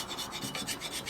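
A gasket is scraped off the surface of a 1961 Harley-Davidson Sportster XLCH Ironhead engine, a close, continuous rasping scrape in quick repeated strokes.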